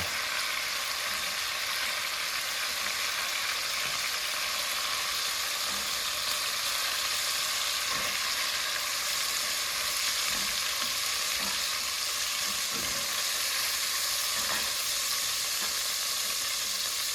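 Meat browning in a hot pan sizzles steadily and loudly for the whole stretch, a constant hissing fry with faint occasional clinks and stirring knocks underneath, no voices.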